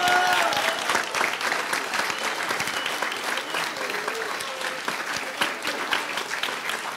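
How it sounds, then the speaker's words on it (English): Sustained applause from a large audience at a 2024 Founders Day convocation, steady dense clapping that holds at an even, fairly loud level throughout. "Let's give her a nice round of applause."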